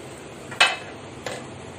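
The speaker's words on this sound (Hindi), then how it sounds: "सिर्फ ऐसे हल्के हाथों से इसको हिलाना है" Rasgulla gently stirred in a cooking pot, two light scrapes or taps of a spoon against the metal, the first sharper and the second softer, over a quiet simmering background.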